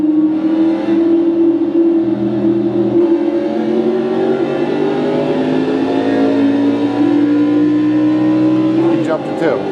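Race car engines roar in the iRacing sim racing game, a loud sustained drone whose pitch climbs gradually as the cars accelerate through the field, with another engine tone layered beneath and a brief shift near the end.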